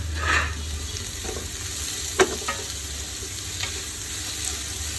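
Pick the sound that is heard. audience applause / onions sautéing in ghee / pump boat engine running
onions sautéing in ghee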